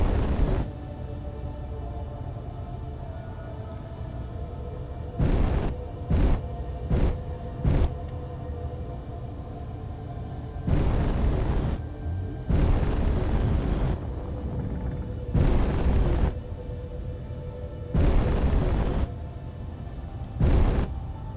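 Space stations exploding in Space Engineers: a series of deep booming blasts, some in quick clusters and others spaced apart, each a loud burst of rumble over a steady low drone.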